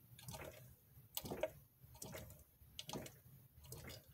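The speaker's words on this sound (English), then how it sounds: "Sounds like water swishing somewhere." Gear oil draining from the rear Dana 44 differential of a 2003 Jeep Wrangler TJ, a faint wet swishing and dripping that comes in soft repeated bursts against a quiet background.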